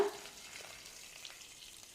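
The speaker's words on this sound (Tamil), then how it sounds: "ஒரு பத்து நிமிஷம் நல்லா வந்து குழம்பு கொதிக்கட்டும்" Faint, soft bubbling and gentle sizzle of a pot of sambar simmering on the stove, steady and quiet.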